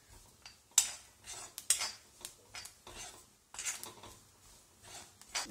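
Grated coconut roasting in an iron pan over a low flame, with fennel seeds added: faint scraping strokes and metallic clinks come at an irregular pace as a utensil stirs it, and no one speaks.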